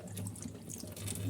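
Tap water runs steadily into a sink to soak dirty dishes, a soft continuous splashing stream heard close by for a moment without any talk.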